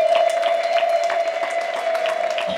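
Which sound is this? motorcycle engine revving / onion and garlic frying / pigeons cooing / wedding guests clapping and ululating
wedding guests clapping and ululating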